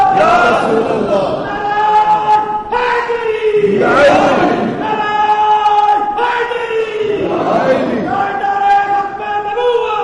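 A large crowd at a religious gathering roars a chanted slogan in three loud, swelling waves. Each massed shout rises and fades, and a lead voice calls out between them.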